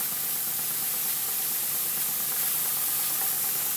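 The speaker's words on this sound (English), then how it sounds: "So this is a boiler made from a copper kettle, and we are losing a lot of steam from there" Steam hisses continuously and loudly from a homemade steam engine boiler built from a copper kettle, a broad, steady rush that doesn't let up and has no voices over it.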